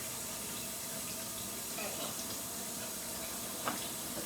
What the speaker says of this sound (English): put some cold water in.